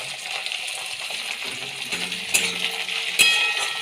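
Chopped tomato added to a pan of frying spice paste for a spicy lote fish dish, giving a steady soft sizzle with a few sharp clinks of a utensil against the pan.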